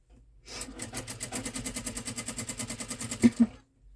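Sewing machine stitching fabric in a quick, even run of about twenty mechanical clatters lasting three seconds, fairly close and quiet, then stopping with a couple of sharper clicks.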